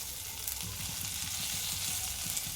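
Okra fries in a pan with a close, dense crackle and sizzle. It stays busy and even throughout with no voices.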